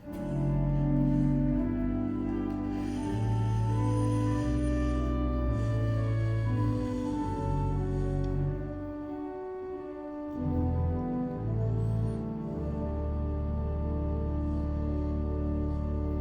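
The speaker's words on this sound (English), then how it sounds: "So here is the gamba stop on the organ." Sustained pipe organ chords on the gamba stop, a string-like, cello-ish reedy tone, loud and steady, with a brief thinning of the lower notes before the full harmony returns.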